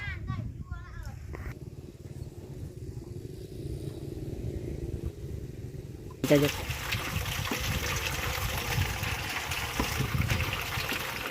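A water pump draws water with a steady rushing, gushing wash that grows louder and broader partway through, under occasional background voices and ambient noise outdoors.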